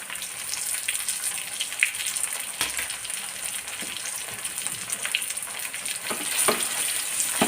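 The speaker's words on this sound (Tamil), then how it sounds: "இந்த மேலே எல்லாத்தையும் நம்ம எண்ணெயில் போட்டுருவோம்." Sliced potatoes frying in hot oil for a potato fry, a steady dense sizzle with crackling pops throughout, close and fairly loud with no talking.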